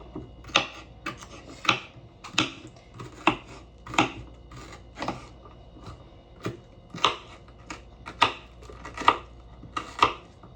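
A knife chops half an onion into even square pieces on a cutting board, giving about a dozen crisp, close knocks at an irregular, unhurried pace in a quiet kitchen.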